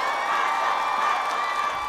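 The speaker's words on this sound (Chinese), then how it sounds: "再次把掌声送给他们。" A television dance-competition audience cheers and applauds as one steady, dense swell of crowd noise with shouts mixed in, heard from within the hall.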